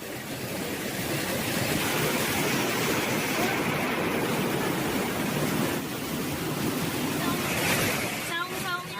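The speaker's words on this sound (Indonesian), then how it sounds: "Akhirnya kita di air terjun," A steady, loud rush of a waterfall fills the whole stretch, a dense continuous roar with a brief dip near the end.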